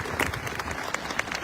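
A crowd claps at an outdoor peace walk gathering at Washington National Cathedral, producing a steady, moderately loud patter of many hands for a brief stretch with no clear voices.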